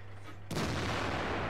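A tank cannon fires in the World of Tanks video game, a T-34-3 medium tank: one sudden loud blast after a quiet moment, followed by a long, dense roar that fills the rest of the sound.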